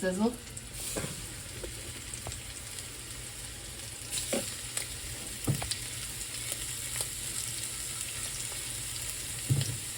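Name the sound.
fish sizzling while frying in a pan for tacos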